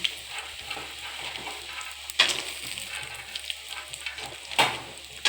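Peanuts fry in hot oil, a steady close sizzle with crackly bursts and occasional stirring clatter, no voices.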